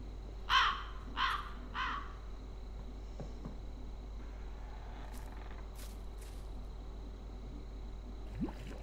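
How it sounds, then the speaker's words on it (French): A crow in the horror game The Cursed Forest caws three times in quick succession, loud and close, then the cries fade into a low ambient hum with a few faint distant sounds. "Il est con ce corbeau, il m'a fait peur."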